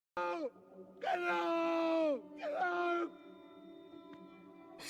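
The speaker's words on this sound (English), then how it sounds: "He's so good at screaming, Cillian." A man's screams and groans from the 2002 horror film 28 Days Later: a short cry, then a long sustained wail that bends downward, a second shorter scream, then a low rumbling background.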